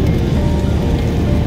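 Rain pours steadily during a highway trip, a dense, even hiss with no breaks and no voices.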